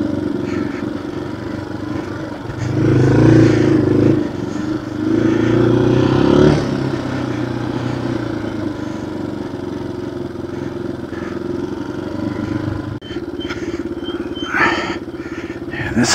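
A Yamaha TW motorcycle rides a wet singletrack trail, its mid-pitched engine rumbling steadily and swelling louder in a couple of revving bursts, with some clatter near the end.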